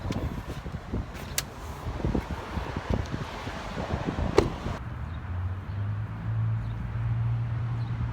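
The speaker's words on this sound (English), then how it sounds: "Oh, it's windy as hell." Strong wind buffets the microphone outdoors with rumbling gusts and scattered thumps, then settles into a lower steady roar with a faint engine-like hum near the end.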